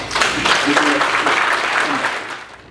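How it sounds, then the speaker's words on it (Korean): Audience applause at a Korean defense seminar welcomes a vice president of the F-35 program to the stage, a full round of clapping that swells quickly, holds steady, then tapers off, with a faint voice briefly underneath. "우리 JR 맥도날드 부사장님을 큰 박수로 환영하겠습니다"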